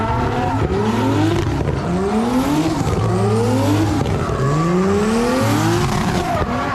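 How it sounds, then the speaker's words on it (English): A drift car sliding with repeated loud tire squeals rising in pitch over a roaring engine. The sweeps come in regular waves, close and continuous. "Last time I brought the drift car, if you guys remember that,"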